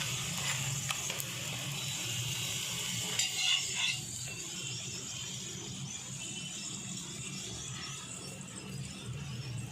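Puran poli flatbread roasts on a hot griddle with a soft, steady sizzle, marked by a few brief clinks and scrapes of a utensil partway through.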